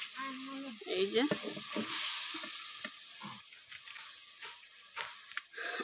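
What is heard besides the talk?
tilapia fish sautéing in a pan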